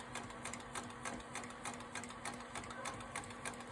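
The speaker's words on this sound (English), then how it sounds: "I'm going to sew nice and slow, close to the edge here" A sewing machine runs slow and steady, stitching close along the edge of an appliqué piece on a quilt, its needle chattering in an even rhythmic patter at close range with no voices.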